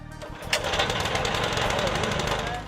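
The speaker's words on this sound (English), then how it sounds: "Adjust the choke until the engine idles correctly." A gasoline engine on a TranzSporter collapsible carriage platform hoist runs close and loud with a rapid, rattling chug, steady throughout after a sharp knock near the start.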